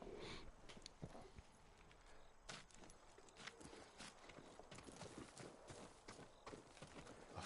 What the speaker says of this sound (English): A farm horse. Never seen battle.